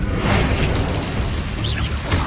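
A Bombarda spell explosion in Hogwarts Legacy, a loud, dense blast that roars through the whole moment with a brief crackle of debris near the end.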